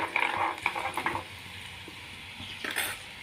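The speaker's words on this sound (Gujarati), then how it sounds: "અને હવે આપણે નાખી દઈશું અધકચરું આપણે જે ખાંડ્યું હતું એ લસણ થોડીક વાર સાતળવા દઈશું લસણને" Crushed garlic sautéing in hot oil in a pan, a steady sizzle with a few stirring scrapes early on and a brief flare of crackle near the end, close and clear with no talking.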